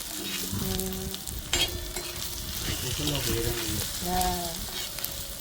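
Green chillies, onions and coconut fry in a pan for Andhra onion pachadi, giving a steady close sizzle with stirring scrapes and a faint background hum.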